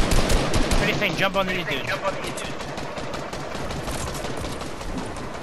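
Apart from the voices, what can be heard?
gunfire in a video game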